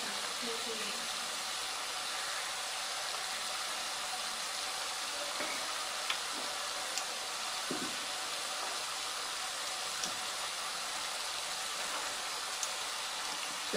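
Ribbon pakodi dough, seasoned with ajwain, salt and chilli, fries in hot oil with a steady, even hiss and faint scattered pops throughout, with no talking.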